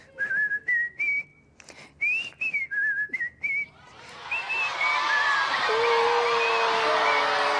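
A person whistles a short bouncy tune of quick rising notes, then a crowd erupts in loud cheering and whooping as a whistle trails over it.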